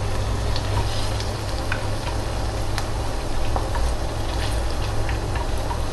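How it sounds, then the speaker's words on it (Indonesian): Tofu frying in hot oil for sweet soy sauce tofu, giving a steady close sizzle with scattered crackles and pops throughout and no voices. "Gorengnya jangan terlalu kering ya teman-teman,"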